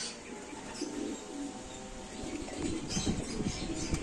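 Racing pigeons coo softly, a low murmur of birds with faint patter and rustling, rather quiet and close, with no talk.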